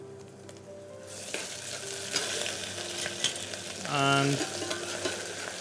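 Onions and ginger fry for Andhra mutton with a moderate, steady sizzle, broken by occasional stirring scrapes and a brief clatter, while a person speaks briefly.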